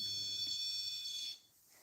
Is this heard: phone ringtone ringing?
no